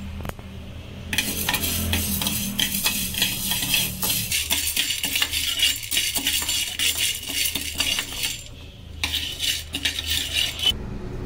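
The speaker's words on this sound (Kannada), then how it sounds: "ಈಗ ಉದ್ದಿನಬೇಳೆನ ಹುರ್ಕೊಳ್ಳೋಣ" Urad dal frying in a pan for tomato bath, with steady crackling sizzle and scraping stir strokes and utensil clinks running throughout, close and fairly loud, briefly easing near the end.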